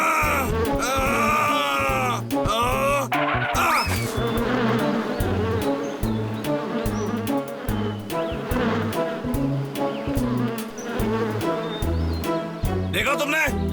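Cartoon bees buzzing around a hive make a loud, continuous insect drone that rises and falls throughout, layered with music and character voices speaking over it.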